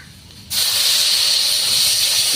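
A sudden loud hiss of water hitting a hot pan, bursting into steady, close sizzling that continues without letup.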